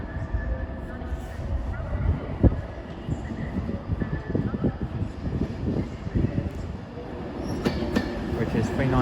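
A Manchester Piccadilly to Cardiff Central passenger train passes through Crewe station on the West Coast Main Line, with steady rail rumble, rhythmic wheel clatter and brief squeals, near and continuous, with some background voices.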